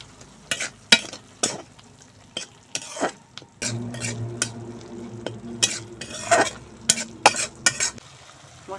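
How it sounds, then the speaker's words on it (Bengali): Turmeric, chili and cumin powder with salt stir-frying in hot oil for a soybean and potato curry, a close, steady sizzle broken by repeated sharp scrapes and clinks of a spatula against the pan, with no talking. "এখন ভালো করে মশলা কষিয়ে নেব"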